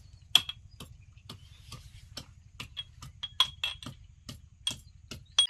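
Chopped amla (Indian gooseberry) pieces are crushed with a run of sharp, light clicks and taps at an uneven, quick rhythm. The sound is close, over a low steady hum.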